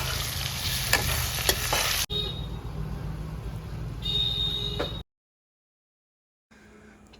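Chicken curry with a pinch of salt and sugar sizzles loudly in a pan with a few spoon scrapes, then continues more softly before a brief silence and a quieter return of frying.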